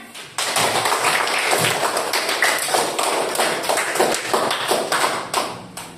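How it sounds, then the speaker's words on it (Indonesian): A room full of students claps together after finishing a group discussion, a dense, steady burst of close hand claps that starts abruptly and runs for about five seconds before thinning out. "Tepuk tangan."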